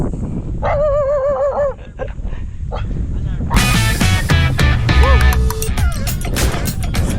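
A dog on a mountain trail whimpers and whines in a rising, wavering tone, then barks and yips several times amid wind noise, with people talking and rustling nearby.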